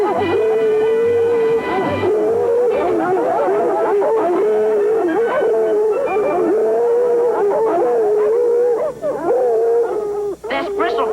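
A hound bays and howls on a fox chase, long wavering drawn-out cries with short yips between them, loud and close, continuing for about eleven seconds.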